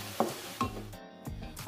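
Meat browns in a pan for nasi kebuli, a close steady sizzle broken by a few short scraping stirs of the spatula.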